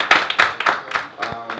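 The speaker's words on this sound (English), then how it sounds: "Please give a round of applause for Mr. Gabriel Asheru." Audience applause for an MC at a hip-hop recap event, a few loud bursts of claps and cheering rising and falling in waves, with voices mixed in.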